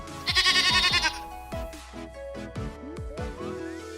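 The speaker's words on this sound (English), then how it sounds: "This is goat." A goat on a farm gives a loud, wavering bleat up close, followed by several shorter, quieter cries in the same sequence.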